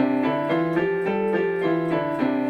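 Piano with the right hand in D position and the left hand in C position sounding together, producing dissonant clashing chords. Sustained, ringing tones change every half second or so in a slow, steady progression, with no other sounds.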